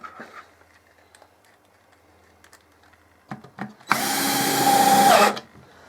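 A power drill fitted with a Pozidriv bit spins up loudly, one sustained whirring burst of about a second and a half after a few light clicks and taps.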